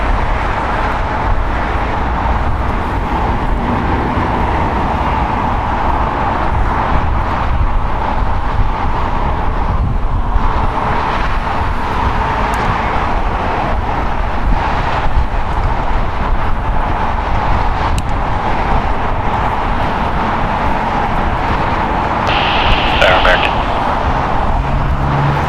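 An Air France Airbus A350-900 lands at LAX, its broad jet roar steady and fairly loud for the whole stretch, with a person talking over it.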